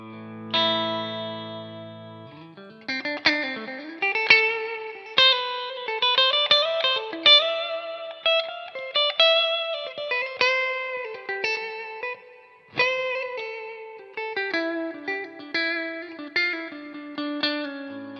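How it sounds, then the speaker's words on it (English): A Victory V130 Super Countess guitar amp pushes out distorted high-gain hard rock riffs, with chugging palm-muted chords and ringing sustained notes in a steady loud rhythm. "play hard rock riffs all the way through to soaring high gain and shred lead tones"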